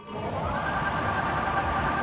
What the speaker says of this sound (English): When a fan gets activated, it'll sound like this.